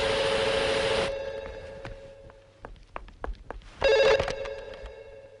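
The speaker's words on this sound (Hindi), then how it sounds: "आहना, जरा फोन देखना।" A telephone bell rings loud and close in a horror film scene, one long burst at the start and another near the end, with scattered footsteps and knocks in the quieter gap between.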